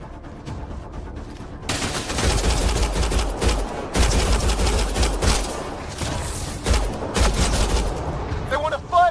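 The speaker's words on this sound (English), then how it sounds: "They shot him!" Rapid volleys of sci-fi gunfire from a Mass Effect Andromeda firefight, loud and sustained with sharp bursts and booms, mixed with shouted voices.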